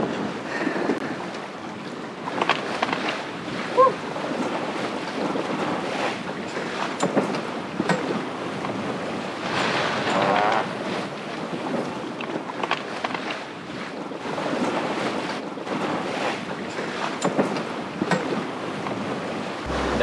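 Ocean waves wash and slap around a sailboat under sail while wind buffets the microphone, loud and continuous with rushing swells throughout and no talk.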